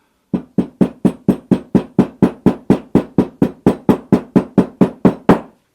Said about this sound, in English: Grab our hammer.